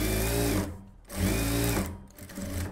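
A sewing machine stitches a silk saree blouse in two loud, close bursts of buzzing motor whir with a brief pause between them.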